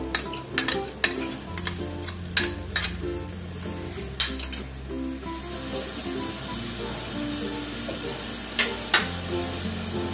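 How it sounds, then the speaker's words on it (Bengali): Prawn curry with sour yogurt stirred in hot oil in a pan: a steady low sizzle runs throughout, punctuated by frequent clinks and scrapes of a spoon against the pan. "এবার যতক্ষণ না তেল রিলিজ করছে ততক্ষণ আমি এটাকে নাড়তে চাড়তে থাকবো।"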